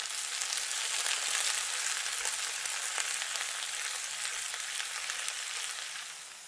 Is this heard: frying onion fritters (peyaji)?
yes